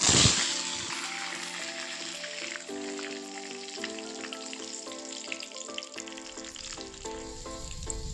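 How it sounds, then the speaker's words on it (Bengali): Curry leaves frying in hot oil left from frying peanuts, with a loud crackling burst as they go in that settles into a steady, dense sizzle and popping, close up with no talking. "এবার কারি পাতাগুলো ওই তেলেই আমি ভেজে নেব"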